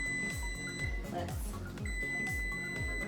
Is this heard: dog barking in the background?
no